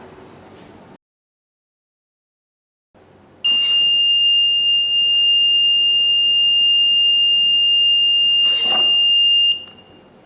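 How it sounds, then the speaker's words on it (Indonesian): A school-built automatic temperature-check smart gate sounds its buzzer when a body temperature reads above 37°C: a loud, steady high-pitched electronic tone holding for about six seconds, with a brief burst of noise near the start and another near the end. "buzzer akan berbunyi"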